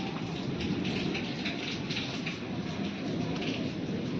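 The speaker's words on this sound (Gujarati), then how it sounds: "ગાજે છે આમ અવાજ આવતો હોય છે." Heavy monsoon rain falls steadily in Palitana, a continuous dense patter and hiss, with low rumbling thunder blending into the downpour; no one speaks.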